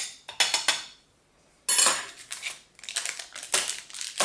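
A utensil stirring a baking soda and vinegar mix in a container, heard as a few close scraping, clinking bursts separated by a quiet pause, fairly faint and with no talking.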